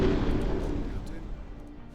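A naval mine launches in a warship combat video game, a deep rumbling boom with low-end thunder that trails off over two seconds, with talk layered on top.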